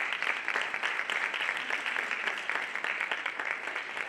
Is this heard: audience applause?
yes